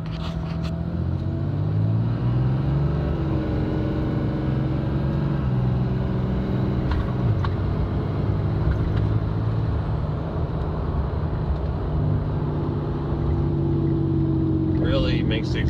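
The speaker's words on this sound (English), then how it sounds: "Really makes the exhaust brake sound good whenever it stops." A truck engine with a large 5-inch intake rumbles nearby as it slows, its exhaust brake giving a deep throaty braking drone shifting in pitch; a voice speaks briefly over it.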